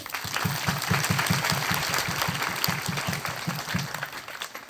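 A church congregation at a Christ the King parish feast in Khamhar claps steadily for the parish priests. The applause is dense and continuous, carried on an even, pulsing beat throughout.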